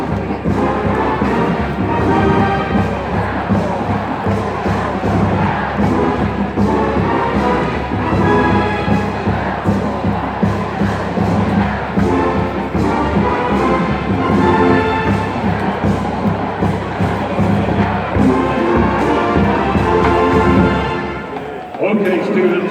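Football crowd at a Troy University pre-game, a steady loud stadium roar of cheering and shouting with a band and announcer-like voice layered throughout, dropping off abruptly at the end.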